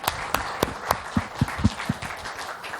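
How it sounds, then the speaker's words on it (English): Sparse claps from a small audience, a dozen or so distinct sharp hand claps spaced irregularly over a few seconds, close and fairly loud with no voices. "Give him a big round of applause, please."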